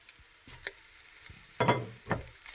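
Boiled noodles being stirred into a spring roll filling of vegetables and shredded chicken in a pan, a few short scraping and sizzling strokes of a spatula, close, with quiet gaps between them.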